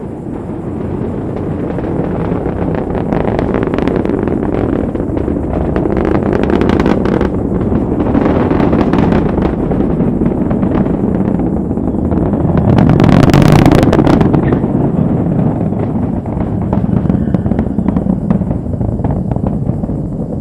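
A Falcon 9 rocket launching a Starlink mission from Florida: a continuous low, rumbling roar with crackling bursts that swells around the middle, loud and sustained throughout with no talking.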